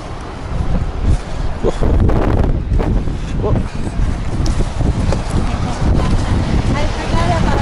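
Strong wind gusts roar and buffet outdoors, loud and continuous, rumbling across the microphone with surges and dips while voices briefly speak beneath.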